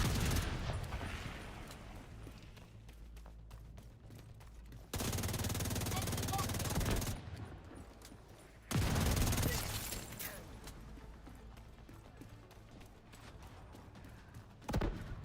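Heavy weapon fire in a shooter video game during a finale mission, coming in two loud sustained bursts separated by quieter stretches of scattered shots and thuds, with a voice talking faintly in between.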